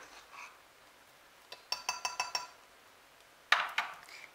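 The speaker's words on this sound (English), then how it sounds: "Now we are going to put the baking powder with the flour and mix it" A tablespoon mixing baking powder into flour in a bowl, a quick run of five bright metallic clinks followed by a couple of louder scraping knocks, quiet and close.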